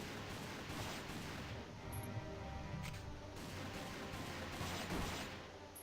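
Continuous battlefield gunfire from Valkyria Chronicles II, a dense, steady roar of rattling shots and distant booms that holds at an even level for several seconds with no talking.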